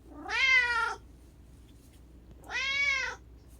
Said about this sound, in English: I noticed he was making some adorable meows